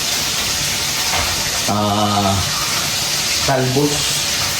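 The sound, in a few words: frying food sizzling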